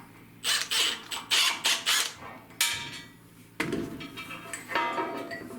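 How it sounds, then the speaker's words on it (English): A nut on a broken commercial mower blade assembly is loosened with a tool, giving a close series of sharp metallic clicks and clanks in quick bursts, followed by a louder clunk and scraping. "And we'll just loosen up this nut, get this out of here."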